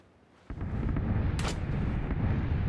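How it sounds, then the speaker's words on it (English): Gunfire in PlayerUnknown's Battlegrounds erupts suddenly after a quiet half second, a loud sustained burst of shots and booming reports that continues to the end. "Is that you shooting?"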